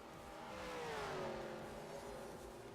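A race car on a South Carolina track during a World Series of Racing round sweeps past, its engine note rising and then falling as it goes by, faint and fairly distant.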